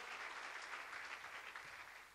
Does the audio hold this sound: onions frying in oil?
no